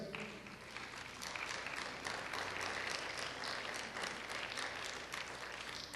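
Church congregation claps steadily for the Lord, a dense, even applause filling the whole stretch without voices.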